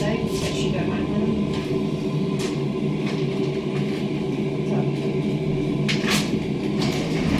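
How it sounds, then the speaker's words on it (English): Schindler hydraulic elevator doors at IKEA Logan, Queensland slide open with a steady mechanical rumble and a few soft knocks, under continuous background murmur and a voice. "Please stand clear of the doors."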